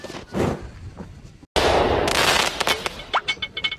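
Sharp firecracker bursts crackle in a rapid, uneven string after a brief pause, loud and close, with a few scattered pops trailing off.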